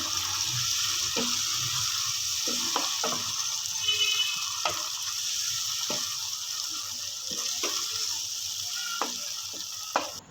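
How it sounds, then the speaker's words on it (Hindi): Green peas are stirred into hot fried masala, keeping a continuous bright sizzle going while a spoon scrapes and knocks against the pan in irregular bursts, close and fairly loud. "अब मैं इसमें ऐड करूँगी ये मटर, इसको अच्छी तरह मिक्स करेंगे।"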